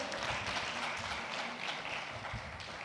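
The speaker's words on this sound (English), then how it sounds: "A round of applause for our robot friend here." Audience applause at a productivity forum in Jamaica greeting a robot, a dense steady wash of many hands clapping that holds at even loudness for the whole stretch, with no voices over it.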